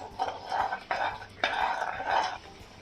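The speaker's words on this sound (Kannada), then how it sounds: "ಇವಾಗ ಮತ್ತೊಂದು ಸರಿ ಚೆನ್ನಾಗಿ ಮಿಕ್ಸ್ ಮಾಡ್ಕೊಳ್ಳಿ." Paneer butter kurma masala stirred in a pan with a utensil, a few close scraping swishes in short bursts with brief pauses between them, moderately loud and without talk.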